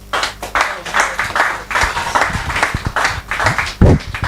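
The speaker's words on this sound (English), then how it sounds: "Please, a round of applause for Damilare" An audience claps for a speaker at an investing talk. The applause is fairly dense and steady, with sharp individual claps standing out, a voice sounds over it, and a louder thump comes near the end.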